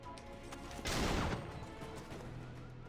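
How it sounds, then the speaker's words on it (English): A single gunshot in Assassin's Creed Freedom Cry rings out as one loud, close burst with a short decaying tail, alone without talk. "I'm just gonna shoot him."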